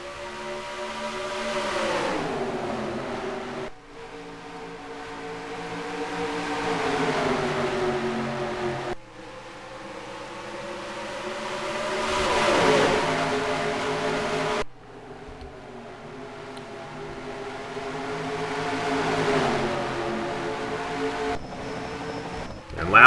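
Race cars in a racing video game's Castrol 500k surge away at the green flag, a droning pack of engines rising and falling in three long sweeping swells with smooth shifting pitch, no voices over it.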